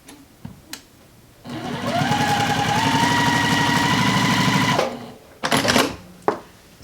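Sewing machine running steadily for about three seconds as it stitches a quilt seam half an inch from an original stitch line on flying geese blocks, close and loud, with brief handling clicks and rustles before and after.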